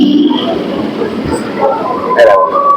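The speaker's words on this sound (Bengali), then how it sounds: "এই ট্রেনটা দেখো রানাঘাট হয়ে বনগাঁ লোকাল" A Ranaghat-Bongaon local train passes with a loud, steady rumble and rattle, a brief sharp screech near the end, and a person talking over it.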